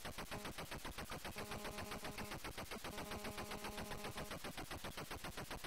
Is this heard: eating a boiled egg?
no